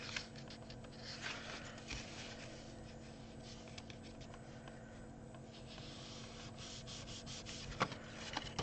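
Cardboard of a gift box being folded and taped, heard as continuous close rubbing and scuffing with soft crinkles and a couple of small sharp clicks, no voices.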